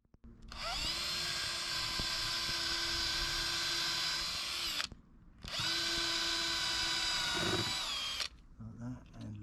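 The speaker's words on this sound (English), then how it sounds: "Then I'm just going to drill small holes" A power drill drilling small holes for screws on a sailboat whirs in two long, steady bursts, loud and close, with a brief pause between them and a few small clunks afterward.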